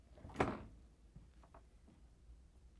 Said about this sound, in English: we need to open the right side French door.